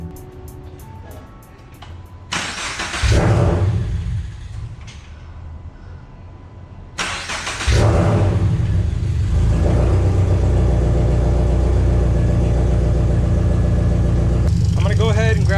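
A Toyota GR86/Subaru BRZ sports car cranks and fires up in a garage during maintenance, the engine catching with a loud rev before settling into a steady, close idle that continues to the end.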